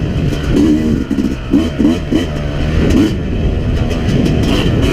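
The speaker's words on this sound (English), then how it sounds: "immediately you can tell that the 250 is a faster revving bike" A 2017 Yamaha YZ250X two-stroke dirt bike revs loud and close, its engine climbing and dropping in quick, choppy bursts with a rattly mechanical edge.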